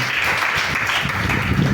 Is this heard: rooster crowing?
no